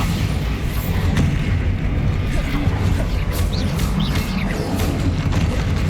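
Blasting spell explosions from the Bombarda charm in the video game Hogwarts Legacy: loud, continuous booming and rumbling battle noise with repeated bursts over six seconds, with no speech.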